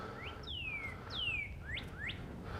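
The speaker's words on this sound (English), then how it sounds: "That is a cardinal." A northern cardinal gives a few clear, sweeping whistled calls, some falling and some rising, over a soft, steady outdoor background on a trail.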